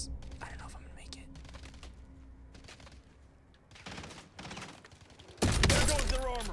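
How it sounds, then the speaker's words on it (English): Incoming gunfire in an online shooter game, with bursts of rapid automatic fire coming in clusters and a loud close volley near the end, under a player's hushed talk. "Incoming fire."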